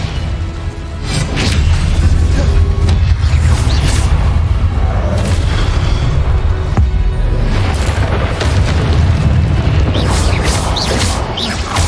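Repeated booming spell blasts in a Hogwarts wizarding video game, loud continuous bursts, crashes and whooshes stacked densely over a rumbling game soundtrack, with no clear gaps between impacts.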